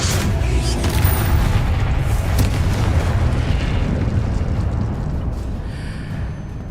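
A Confringo blasting spell bursts in Hogwarts Legacy as a loud, rumbling explosion that fills the whole stretch with dense low boom, then slowly thins out toward the end.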